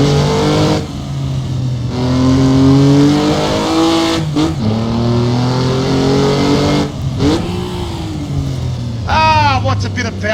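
A race car engine revs hard in a driving simulator on the Targa Florio course, with a loud, close, rising and falling drone through the gear changes and sputtering on the overrun, while someone talks over it.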